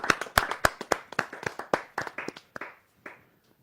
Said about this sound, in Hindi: जरा जोरदार तालियों के साथ हम उनका अभिनंदन करते हैं।